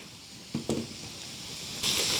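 Spice masala tipped into hot oil in a small tadka pan, giving two brief hits followed by a quiet, steady sizzle that swells into a brighter hiss near the end.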